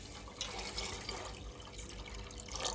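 Water poured into a cooking pot while making bagara rice, a steady splashing, trickling pour heard up close and alone, with brief louder splashes near the end.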